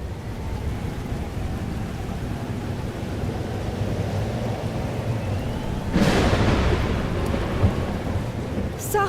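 Thunderstorm in the video game Life is Strange: Double Exposure, with steady heavy rain and a low rumble throughout, then a sharp, loud thunder crack around two-thirds through that rolls on under the rain.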